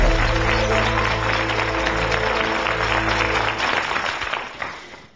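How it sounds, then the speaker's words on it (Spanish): Loud, sustained studio audience applause greets a contestant on the Spanish edition of the quiz show Who Wants to Be a Millionaire, a dense wash of clapping that holds steady and then fades out near the end. "al que recibimos con un fortísimo aplauso."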